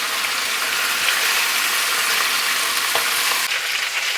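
Pork ribs browning in a skillet give a loud, steady sizzle and crackle of frying fat that carries on alone throughout, close and unbroken.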